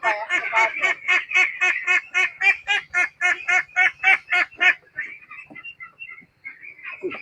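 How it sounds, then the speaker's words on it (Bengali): Grown ducks being caught for their second duck plague vaccination quack loudly and close by in a rapid run of about fifteen harsh calls, then give fainter, scattered calls. "যেহেতু হাঁস বড় হয়ে গেছে, ধরা মুশকিল।"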